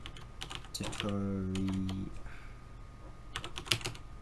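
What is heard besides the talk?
typing on a new Dell desktop computer keyboard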